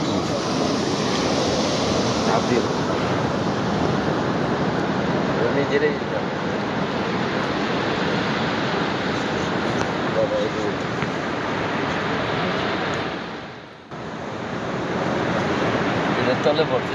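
Ocean surf rolls onto a sunlit beach as hundreds of young black turtles paddle into the waves; a steady, full wash of breaking water and wind dominates, dipping briefly near the end.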